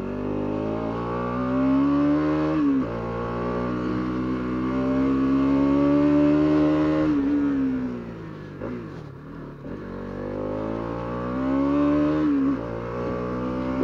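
A Bajaj Dominar 200 motorcycle climbs a mountain road in second gear on wet asphalt, its engine holding a loud, steady note that rises under acceleration, dips and eases through a tight bend, then pulls up again, heard close and without talk.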